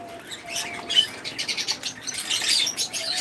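Several small pet birds kept on a farm chirp and tweet in quick, overlapping bursts, bright and fairly close, with a brief flutter of wings and no talking.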